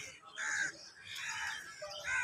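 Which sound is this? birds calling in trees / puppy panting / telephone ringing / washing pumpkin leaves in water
birds calling in trees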